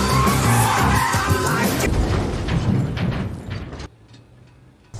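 A car skids out of control in an action-film scene after CO2 from a fire extinguisher is sprayed inside, heard as loud, dense tyre and engine noise for about four seconds that cuts off abruptly near the end.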